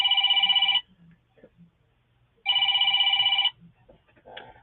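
A mobile phone rings in two loud trilling bursts separated by a pause, with faint background sounds between them.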